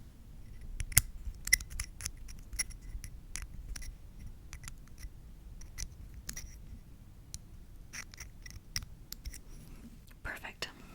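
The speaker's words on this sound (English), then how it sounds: "I'm going to go ahead and reattach those screws." Small screws are driven back in during an ASMR android-repair roleplay, giving soft, close scratchy clicks and ticks in irregular bursts over quiet whispered talk.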